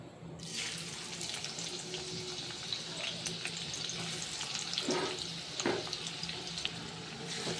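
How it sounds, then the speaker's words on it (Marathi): Chopped onions hit hot oil for a fish curry and sizzle and fry steadily at moderate volume, a continuous hiss with a few soft stirring sounds. "आता तेल गरम झालेलं आहे. आता कांदे टाकायचे मध्ये."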